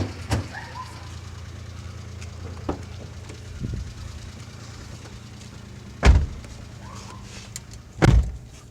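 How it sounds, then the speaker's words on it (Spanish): A car engine runs at idle after being jump-started from a dead battery, giving a low steady hum interrupted by a few louder thumps and knocks, with no talking. "en este momento ya el vehículo se encuentra encendido, ¿sí? Como lo escucharon del sonido del motor."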